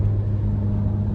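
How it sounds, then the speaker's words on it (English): Steady low rumble of a car driving on a highway on a long road trip home from West Virginia, a continuous engine and road drone heard from inside the vehicle with no talk. "I am still driving home from West Virginia"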